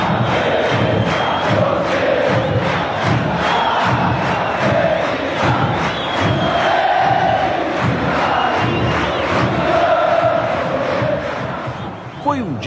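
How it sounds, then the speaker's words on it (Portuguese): A huge stadium crowd of Cruzeiro fans sings together in rhythmic chant at Flamengo's centenary in 1995, a massed roar of voices rising and falling in phrases. "a torcida do Cruzeiro cantar parabéns para você no aniversário do centenário do Flamengo"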